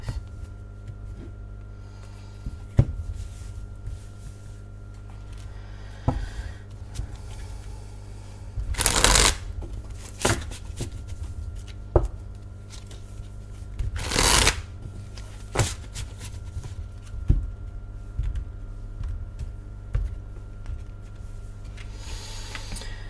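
Tarot cards being shuffled by hand in repeated riffle and slide bursts, with sharp papery rustles and a few loud flurries around a steady background hum, no talking.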